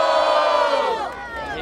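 A crowd at a street rap battle in Barueri roars and cheers in a long sustained shout of many voices, loud and close, fading slightly before a sharp burst at the very end.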